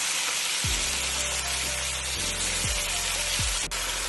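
A pan of hybrid tomatoes frying with garlic gives a steady, dense sizzle, broken now and then by a few soft low knocks from stirring.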